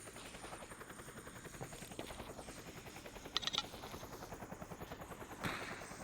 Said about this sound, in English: Is that a fucking helicopter?